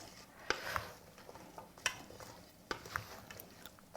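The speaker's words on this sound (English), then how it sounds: "Let's continue to stir and see how much liquid we need to add." Vegan Thanksgiving stuffing with Tawny Port is stirred in a pot, giving faint scattered spoon scrapes and soft clinks against the pot at an irregular pace.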